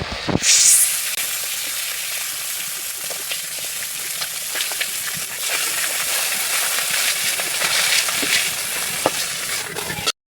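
Pieces of silver carp fry in hot oil in a pan, giving a loud, close, continuous sizzle and crackle with occasional sharper pops and stirring scrapes, and no voices.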